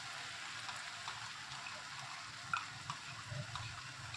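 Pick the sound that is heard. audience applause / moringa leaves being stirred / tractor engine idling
moringa leaves being stirred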